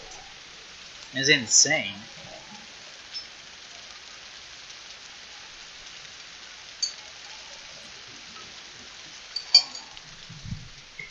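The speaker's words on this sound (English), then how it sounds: "I don't know if you can hear the noise of the rain, but can you hear that?" Heavy rain falls outside as a steady, even hiss that fills the whole stretch, with a brief spoken voice near the start and a few faint clinks.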